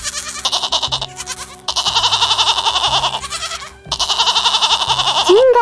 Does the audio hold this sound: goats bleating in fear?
yes